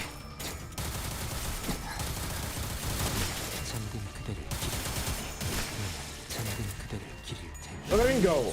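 Limbus Company mag dump skill: dense, continuous clattering gunfire mixed with mechanical ratcheting and clanks, sustained and loud, ending with a brief tonal game sound effect.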